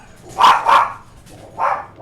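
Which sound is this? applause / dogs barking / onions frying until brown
dogs barking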